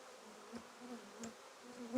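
Honey bees buzz at a hive in an apiary during a pre-winter visit, a soft, steady drone with a few louder passes as individual bees fly close, heard faintly throughout.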